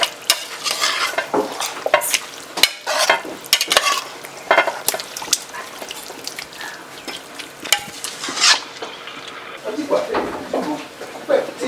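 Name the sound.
stirring lamb biryani mixture with water in pot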